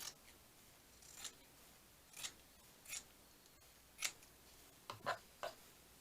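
Scissors cut paper or card for a boho junk journal cover in a series of about seven short, crisp snips. The cuts come irregularly against a quiet background.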